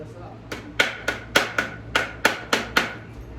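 Hammer strikes sheet metal held against a dolly in a metal-shaping session, landing about ten sharp, evenly spaced ringing blows in a steady rhythm, close and loud, with a low hum underneath.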